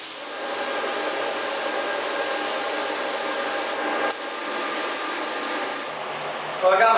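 Compressed air hisses steadily as it blows dust off primered motorcycle parts and a helmet before candy paint, one continuous broadband blast that briefly drops and resumes.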